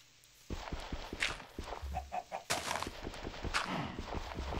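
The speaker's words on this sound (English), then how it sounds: "I'm gonna settle my cow down right next to you chickens" Chickens cluck in the video game Minecraft, with short clucks and blocky footstep thumps throughout. The sounds are close and moderately quiet, and no one talks over them.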